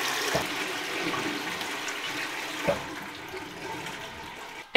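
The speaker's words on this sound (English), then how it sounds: "We also have this toilet, and this is how you flush it." A toilet in a bathroom in Andorra flushes with a continuous rushing, gurgling wash of water lasting several seconds, with a couple of small knocks and a sharp clunk at the end.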